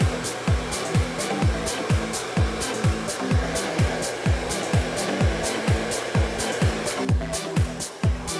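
A hair dryer blowing with a steady whoosh, its airflow pulsing in a regular rhythm as it moves, close and fairly loud.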